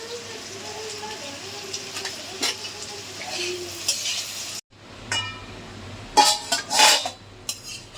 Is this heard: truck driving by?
no